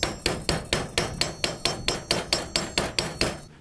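A hammer chips slag off a fresh stick weld made with a 2 mm electrode on a Hecht 1820 inverter welder, giving about fifteen sharp, evenly spaced metallic taps close by, each with a short ringing decay.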